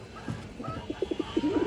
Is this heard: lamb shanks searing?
no